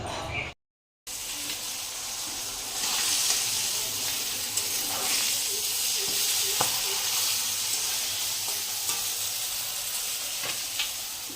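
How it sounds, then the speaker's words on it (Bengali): Fish fries in oil over a low gas flame, producing a steady close sizzle with a few soft pops and clicks and no talking. "মাছটা ভাজতেই থাকি আস্তে আস্তে গ্যাস কমিয়ে যাতে বেশি তেলের সেটা না যায়"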